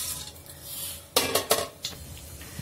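Mustard seeds hit hot coconut oil in a pan and splutter in a short cluster of sharp pops and crackles over a low background sizzle, close by and fairly loud.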